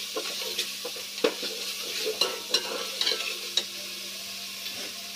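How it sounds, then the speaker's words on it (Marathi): Kurma masala with garam masala roasting in a pan, a steady soft sizzle broken by sharp scrapes and clinks of a spoon stirring against the metal, close up and without talk. "आता हे छानसं भाजून घ्यायचं"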